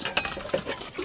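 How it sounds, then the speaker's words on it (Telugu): Dishes being washed by hand: quick clinks of metal utensils and pots knocking together, close and irregular, over a short busy stretch without talk. "ఇది ఇదేం రకం బోకులు కట్టడం అబ్బా?"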